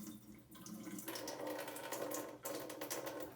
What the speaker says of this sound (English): you can see it's pushing the water out of there